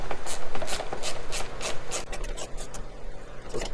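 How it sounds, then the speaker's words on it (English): A hand tool rasps and scrapes in short, uneven strokes while an 8 mm fitting is worked on a Can-Am Ryker motorcycle airbox, close up and dry, with quick scratchy bursts and no voices. "Now you got 5 screws you gotta take off."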